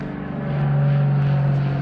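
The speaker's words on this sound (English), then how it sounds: "Look at that airplane." An airplane passes overhead as a steady, droning engine hum with a low tonal note, fairly loud and continuous, with no talking.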